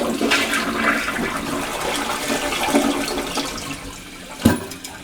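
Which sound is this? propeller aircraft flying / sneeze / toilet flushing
toilet flushing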